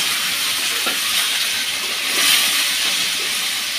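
Boiled yardlong beans fry with onion in a hot pan, giving a steady, close sizzle and hiss with faint stirring and no talk.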